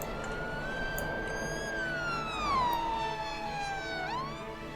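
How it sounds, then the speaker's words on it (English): Ambulance siren from the city-building game Cities Skylines, a steady wailing tone that sweeps slowly down in pitch and then jumps back up, heard alone at moderate loudness with no talking. "looks like an ambulance has just responded to one of those"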